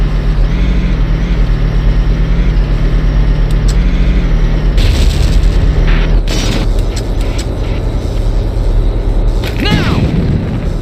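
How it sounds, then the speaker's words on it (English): A tank rumbles closer with deep low engine drone and creaking, clanking mechanisms in a Valkyria Chronicles battle, punctuated by booming impacts and sharp bursts, loud and continuous throughout. "That tank is coming this way."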